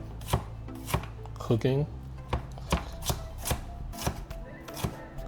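Peppers and onions chopped on a board with a knife: about a dozen crisp, evenly spaced thuds close by, with a brief spoken word partway through.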